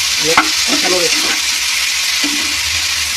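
Spice paste and gathi kochu potatoes are stirred in a sizzling frying pan, a loud continuous fry with scraping strokes close up, while a person speaks briefly over it.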